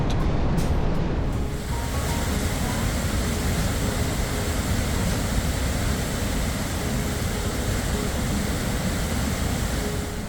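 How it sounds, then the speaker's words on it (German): Ristafallet, a small waterfall in Scandinavia about 14 metres high and 50 metres wide, gives a loud, steady, unbroken roar of rushing water heard up close. "ein eher kleiner Wasserfall, aber dennoch beeindruckend"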